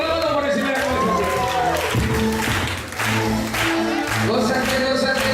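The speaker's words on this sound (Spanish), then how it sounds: "La gente está encendida. Aplaudiendo con la mano por encima de la cabeza." Church congregation clapping with hands raised above their heads, dense rhythmic applause continuing under loud worship singing and amplified voices.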